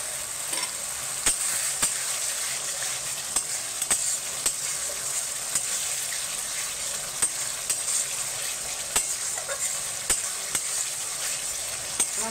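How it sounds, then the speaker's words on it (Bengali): Spice paste sizzles steadily in hot oil in a pan, with a sharp spoon scrape or tap on the pan every second or so as it is stirred, close and alone without talk. "আমার মশলাটা একটু ভাজা হবে।"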